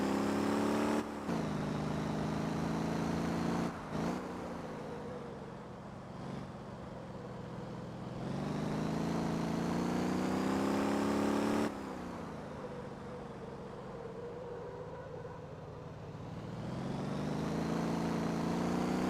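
Car engine humming and revving in Motor Town: Behind the Wheel, a continuous, fairly quiet drone that rises and falls in pitch with gear shifts and throttle changes, heard alone.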